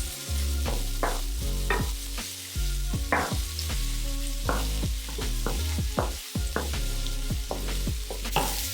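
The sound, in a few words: tossing sliced red chilies in a frying pan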